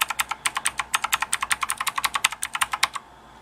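Crisp, evenly paced keystrokes on a Jelly Comb 87-key mechanical gaming keyboard, about two dozen clacks in quick rhythm, close and loud, then stopping near the end with no voices.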